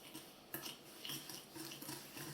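A spoon stirs fresh cheese cream with egg yolk, vanilla sugar and sugar in a bowl, giving a soft, continuous scraping and clinking at low volume.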